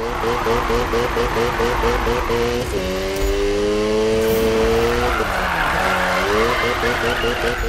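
A Mazda RX-7 Spirit R drifts in the Need for Speed 2015 racing game, its engine wailing with rising and falling pitch while tyres squeal steadily through long slides, loud and continuous, with a voice talking over it.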